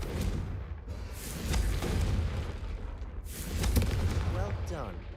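A Confringo fire spell bursts in Hogwarts Legacy, heard as repeated booming blasts and thuds in rolling waves, fairly loud under character voices.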